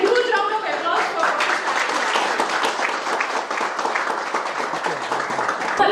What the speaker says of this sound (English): Ladies and gentlemen, a huge round of applause for